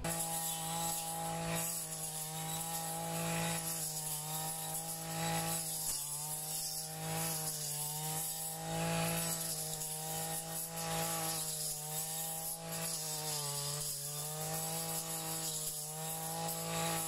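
A Zenoah brush cutter slicing through grass, its small two-stroke engine whining at high revs and sagging briefly in tall growth before surging back up, sustained and fairly close throughout.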